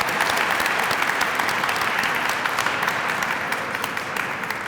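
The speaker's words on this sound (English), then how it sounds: "Can we give them another round of applause?" A large crowd at a Black History Month closing luncheon applauds loudly and steadily, with dense, continuous clapping that fades slightly toward the end.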